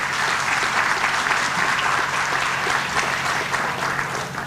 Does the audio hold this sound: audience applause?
yes